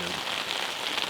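Rain mixed with hail falling outdoors in Oregon, a steady dense hiss of drops pattering on surfaces, close and fairly loud with no clear pauses.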